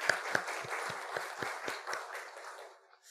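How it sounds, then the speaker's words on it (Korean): Applause from a church congregation in a large room with a balcony, with clearly spaced claps at first, fading out into quiet near the end. "우리 함께 박수 한번 격려해 줬으면 좋겠습니다"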